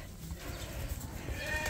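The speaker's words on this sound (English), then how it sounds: "we let all the sheep out to pasture as well" Sheep on a farm bleat faintly and at a distance as the flock is let out to pasture, a few soft calls over a low background rumble.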